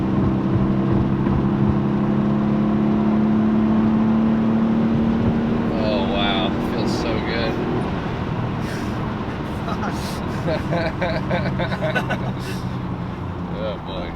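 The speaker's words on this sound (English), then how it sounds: "At high speeds, it's very smooth. Very smooth. It sounds really good. It does this" A 1997 Porsche Carrera S at high speed gives a steady, loud engine drone with road and wind roar throughout, and a person talks over it partway through.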